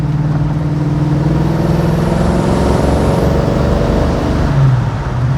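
A 1969 Pontiac GTO with a Tremec gearbox accelerating through the gears, its engine a loud, steady drone that rises in pitch and holds close throughout.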